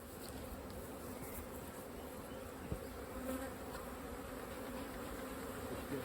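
Honey bees buzz steadily around stacked hive supers, a dense continuous hum of many insects close by with no voices, holding an even level throughout.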